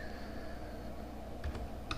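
Someone types a sentence on a computer keyboard in Microsoft Word 2007, a soft, fairly quiet run of key clicks over a steady background hum.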